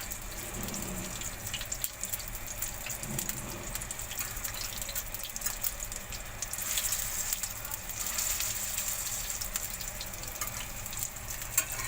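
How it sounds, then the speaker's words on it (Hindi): Chicken chapli kababs fry in a pan with a continuous, moderately loud sizzle and crackle, steady throughout with small spits and pops. "बस इसको हम थोड़ी थोड़ी देर के लिए फ्राई कर देंगे, इतना कि कलर आ जाए"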